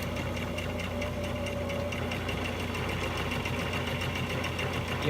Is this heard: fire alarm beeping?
no